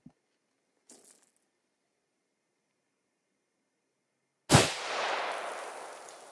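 A single loud shot from a Thompson Center Compass rifle in .270 firing Sig Sauer 140 grain ammunition outdoors at dusk cracks out after a few seconds of near silence and faint small clicks, then trails into a long fading echo.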